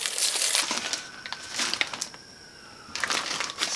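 Stiff packaging around a Louis Vuitton box is torn and crinkled open in close, crackling bursts separated by brief pauses, with no one talking.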